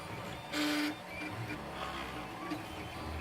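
A 3D printer laying down the top of a mini skull in red ABS filament, with steady low stepper-motor whirring, faint high whines and a brief louder burst of movement near the start.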